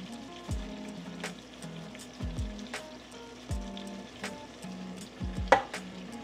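Breakfast cooking in a pan with salt, garlic and pepper: a soft steady sizzle with repeated metallic stirring scrapes and clanks of a utensil against the pan, one sharper clink near the end, no talking.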